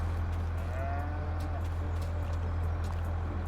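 Cattle moo in the Farming Simulator 22 video game, a few faint drawn-out calls over a steady low engine drone that runs throughout.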